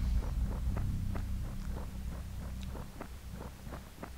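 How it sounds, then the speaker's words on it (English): Footsteps in Aidyn Chronicles: The First Mage, a steady run of soft, evenly paced steps over a low rumbling ambient drone, moderately close and quiet. "And yet again I hear footsteps."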